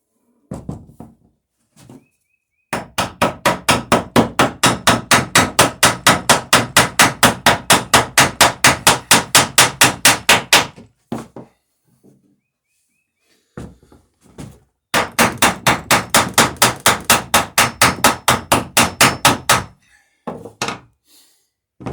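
Nails are hammered as rivets into the bottom of a wooden cruising dinghy, two long runs of rapid, evenly spaced ringing blows, close and loud, separated by pauses with a few scattered single taps.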